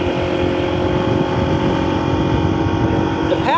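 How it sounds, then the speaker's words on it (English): A Honda ADV160 scooter's engine runs steadily while riding on a road with gravel and dirt, a constant close drone with wind noise throughout and a brief higher whine near the end. "the bike is smoother under power"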